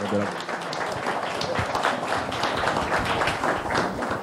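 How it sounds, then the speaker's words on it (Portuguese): An audience at a Brazilian coastal shipping conference applauds the closing panel, steady crowded clapping filling the room throughout, with a voice speaking over it. "Esses aplausos agradecem aos participantes do último painel"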